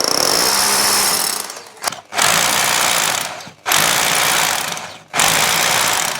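A power drill bores through a wall during a kitchen rewire, grinding loudly in long bursts that stop and restart three times with brief pauses between.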